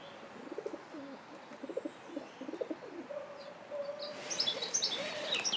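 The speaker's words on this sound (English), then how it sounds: "that was a dove cooing, sat on the gate looking at me with some suspicion" A dove coos in soft, repeated low phrases, with other birds chirping faintly in the background and growing brighter toward the end.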